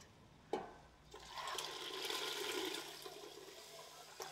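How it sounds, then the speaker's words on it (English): Homemade broth pours into a pan of sweated, thickened tomatillos, a sudden splash followed by a steady rushing, bubbling wash of liquid that fades after a few seconds. "And now we're going to add that beautiful broth we made earlier."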